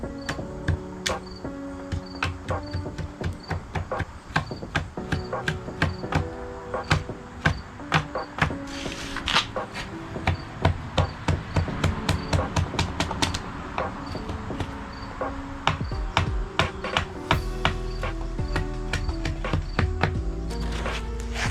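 Repeated sharp chopping knocks cutting notches in a wooden bow, irregular but steady, close and fairly loud.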